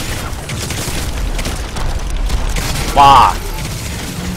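A single short blast booms in the Crysis 3 game amid ongoing gunfire and mechanical clatter, with a player's startled exclamation at the start.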